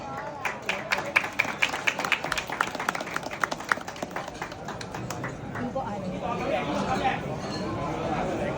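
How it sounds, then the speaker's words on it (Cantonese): Guests at a Hong Kong temple festival banquet applaud dignitaries hanging red on lion dancers, a burst of sharp claps rising over busy chatter and clinking, then fading into a steady hubbub of crowd talk. "俾掌聲阿九爺啊！"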